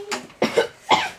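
A young schoolchild with a tummy bug coughs three times in quick succession, close and fairly loud, each cough a short rough burst.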